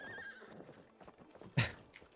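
A short horse whinny in the video game It Takes Two rises briefly, followed by a sharp clop-like thump, all fairly faint and over quickly.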